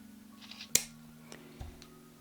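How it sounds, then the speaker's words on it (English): Scissors or cutters make one sharp close snip through coiled memory wire for a bead craft, followed by a few faint clicks and light handling noises in a quiet room. "so we have our memory wire cut"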